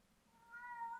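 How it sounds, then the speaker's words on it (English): A cat meows somewhere in the background, a single faint, drawn-out rising meow lasting under a second, heard alone in a quiet room. "Hey, Robin, that's the cat in the background."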